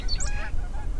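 Geese honk in a quick pair of nasal calls over a low outdoor rumble, sounding moderately close.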